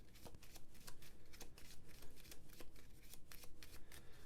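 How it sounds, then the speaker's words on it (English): Hero cards from the Marvel United board game are shuffled close up, a quick run of crisp riffling bursts and soft flicks repeating in a steady rhythm, quiet and alone. "Let's give the hero cards a shuffle."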